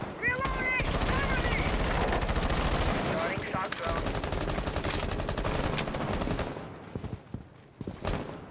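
Rapid automatic gunfire from a bomb-defusal shooter game on the Themepark map rattles loudly and continuously for several seconds, then breaks into sparser single shots; game voices and player chatter sit faintly underneath.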